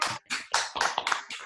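A few participants on an open-microphone video call clap in short, uneven bursts, sparse and slightly clipped, lasting barely a second and a half.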